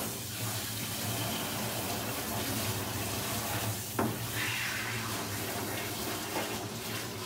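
Water runs steadily through a dog's coat as it is rinsed during a grooming session, a constant close hiss of spray with a faint splash near the middle and no talking.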